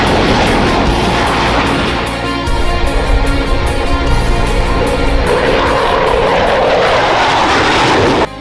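A US Air Force Boeing F-15EX Eagle II fighter jet, flying missile-firing tests over the Gulf of Mexico, produces a loud, continuous engine roar that stays strong throughout and cuts off abruptly at the end.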